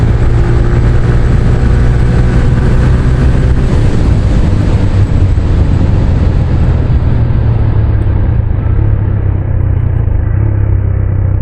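A TVS Raider 125cc motorcycle's exhaust note, a steady, loud low rumble that holds throughout with no gaps, with no talk over it.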